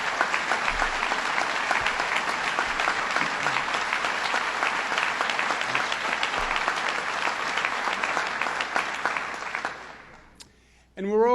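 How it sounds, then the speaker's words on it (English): An audience at a formal ceremony claps in a dense, sustained round that slowly fades out near the end, followed by a brief moment of near silence. "give them a round of applause,"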